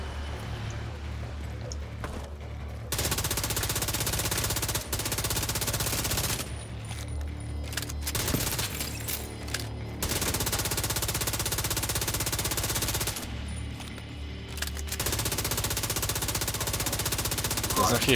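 In The Division 2, a Vector SMG fires in long, loud automatic bursts with short pauses between them, a continuous rapid rattle that carries on over about eighteen seconds of gameplay.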